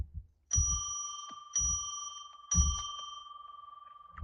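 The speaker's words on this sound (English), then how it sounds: "why don't we just ring our bell 3 times to declare sacred space" A small bell rings three times about a second apart. Each strike rings out clear and bright, then decays slowly, heard close up with no one talking.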